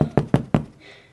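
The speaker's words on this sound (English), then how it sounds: "I knock on the door here?" Four sharp knocks on a door in a quick, slightly uneven rhythm, close and fairly loud, then a faint hiss of background noise.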